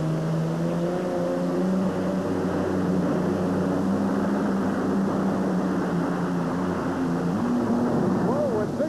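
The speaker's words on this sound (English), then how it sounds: "Another fuel-injected Allison Aircraft engine-powered machine." A loud, sustained roar from a fuel-injected Allison aircraft engine on a pulling vehicle, steady droning pitch rising near the end, continuous like a heavy machine pulling under strain, at a 1992 USHRA event in Oakland.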